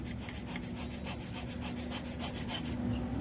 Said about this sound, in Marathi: हे बघा चांगली किसून घेते मी